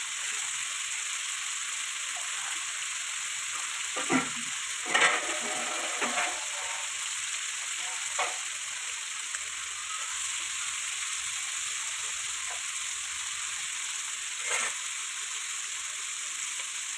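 Chicken bone curry frying in a pan is stirred, giving a steady soft sizzle throughout with a few scattered scraping and clinking stir sounds, moderately quiet and without voices.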